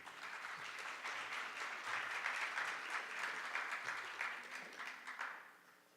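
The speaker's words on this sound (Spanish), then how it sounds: "Vamos a recibirlo con un fuerte aplauso" Audience applause welcoming a private-equity fund manager to the stage at a presentation, a sustained steady round of clapping that fades out toward the end.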